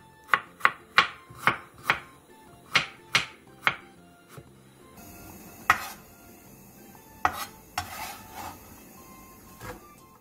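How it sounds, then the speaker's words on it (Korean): Ginger is sliced into thin pieces with a knife on a cutting board: a quick run of sharp, evenly spaced chops, then a pause and a few scattered knocks and clatters, close and without talk. "생강 4톨은 편 썰어주세요"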